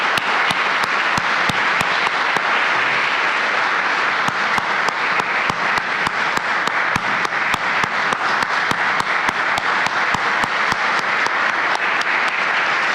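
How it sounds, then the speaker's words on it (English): A sustained round of applause fills the room at a White Coat Ceremony for a medical school class, dense and loud clapping from a large crowd running steadily without pause or speech. "one more round of applause for the class of 2024."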